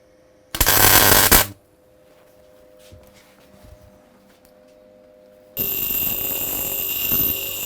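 An engine valve part gets bursts of welding during a scrap repair. A loud, harsh crackling arc comes in one short burst, then quieter workshop noise follows, and a second sustained buzzing burst runs to the end.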